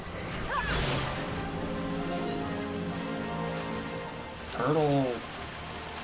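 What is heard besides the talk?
rain falling in the video game Final Fantasy XII: The Zodiac Age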